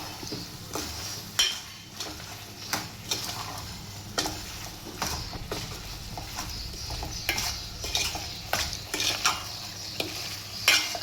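Chicken liver pieces coated in chili powder are stirred as they fry, a steady sizzle punctuated by repeated sharp scrapes and clanks of a spoon against the pan, close and uneven in rhythm.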